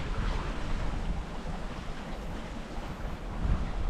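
Sailboat on a broad reach in 14 knots of wind, about 8 apparent, making 6 to 7 knots: a steady wash of water and wind noise, with low rumble and hiss holding fairly even throughout, no voices.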